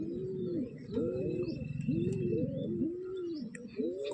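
Pigeons cooing close by in a repeating series of soft rounded coos, with faint chirps and light background noise between them.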